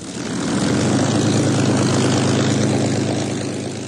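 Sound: Supermarine Spitfire fighter taxiing, propeller engine running

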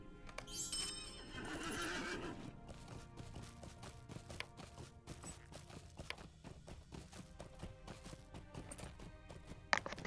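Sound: horse neighing and hooves, from video game Lord of the Rings Online

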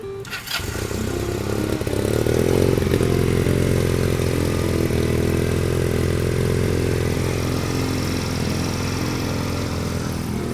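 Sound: GPX Legend 250 Twin two-cylinder motorcycle engine running

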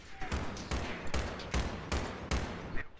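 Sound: gunfire in the video game Battlefield 3

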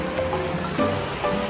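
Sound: flowing mountain stream water

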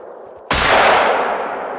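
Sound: gunshot from a hunting rifle in video game Hunter Call of the Wild

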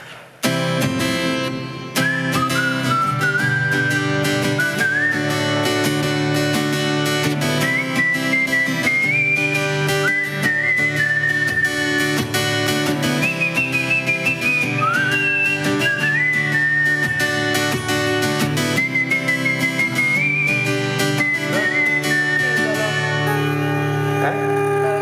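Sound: person whistling a song

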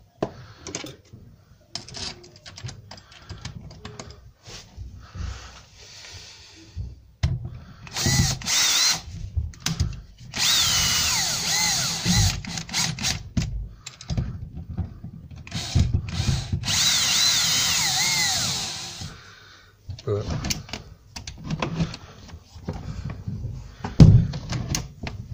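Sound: power drill driving screws into PVC window handle

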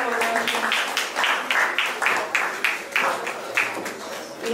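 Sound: audience applause at an awards ceremony

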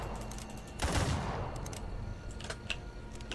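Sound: gunfire in a video game

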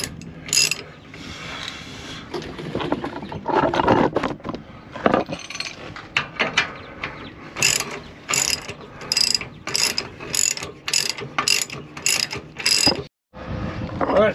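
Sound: torque wrench tightening shock absorber bolts

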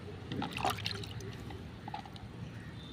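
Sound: pouring ash and turmeric into rice water

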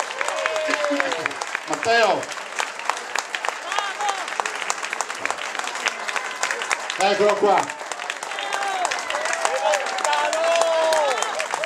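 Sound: applause for arriving speaker

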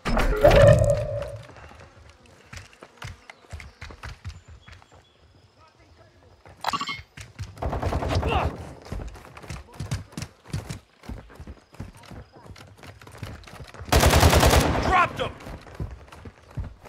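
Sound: gunfire in a video game

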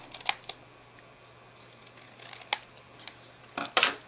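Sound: long scissors cutting cardstock strips

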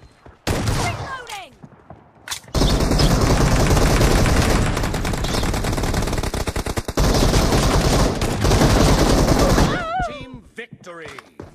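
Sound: shotgun gunfire in video game BGMI

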